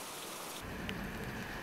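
A heavy rain shower, a dense steady hiss of falling rain that swells noticeably louder after a moment and keeps an even roar, close and with no voices.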